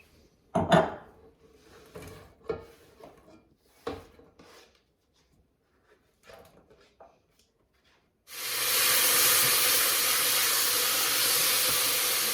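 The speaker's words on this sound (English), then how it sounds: "I'm gonna use olive oil here, for extra virgin olive oil for sauteing." Onion, garlic and thyme go into hot extra virgin olive oil. Several close, sharp clinks of utensils and a pan come first, then a loud, steady sizzle takes over and continues to the end.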